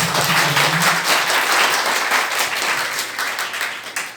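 Audience clapping at an Azadi ka Amrit Mahotsav speech event, a dense, steady round of applause that carries loudly through the whole stretch, with a low murmur beneath it near the start.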